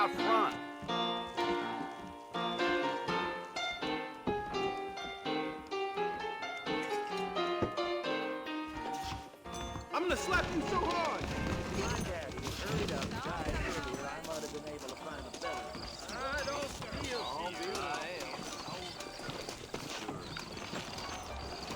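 Horse hooves trot in Red Dead Redemption on PC, a steady clip-clop rhythm that follows a stretch of music and carries on as game ambience swells around it.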